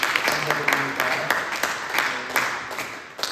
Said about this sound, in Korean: 우리 함께 환영하는 박수 드리도록 하겠습니다